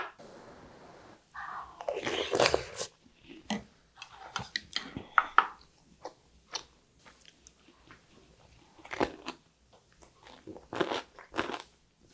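Close-up eating of rice soaked in beef bone broth with crunchy cubed radish kimchi made from autumn radish: bursts of loud crisp crunching bites and chewing come in irregular clusters separated by quiet pauses, with no talking.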